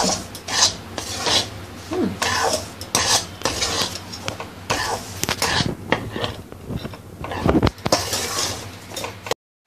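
Besan laddu mixture being stirred and mixed in a pan, with repeated scraping and rubbing of a spoon against the metal and occasional clinks, close and steady throughout.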